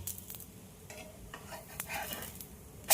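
Pitha frying in a pan as oil is added: a soft, faint sizzle with light crackles and a few scraping stirs, no voices.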